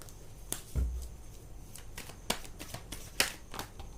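Tarot cards are handled, with soft riffles and sharp flicks and slaps as cards are shuffled and pulled. The sounds are quiet, close and irregularly spaced.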